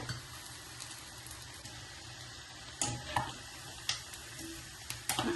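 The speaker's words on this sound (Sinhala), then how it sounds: "ටිකක් බ්‍රවුන් පාට වෙන්න තමයි මේක බැද ගන්න ඕනේ." Onions, chili and fish frying in oil for a sambol, a low steady sizzle with faint scraping stir strokes and a few sharper clinks toward the end, no talking.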